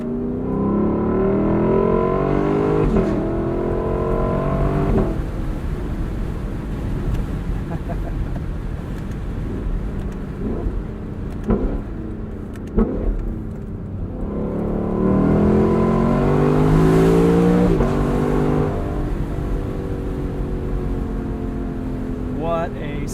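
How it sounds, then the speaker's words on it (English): A Lexus LC sports car's exhaust swells through two hard acceleration runs, the rising engine note loud and close, with a quieter lull between them and a voice speaking briefly over it. "What an exhaust."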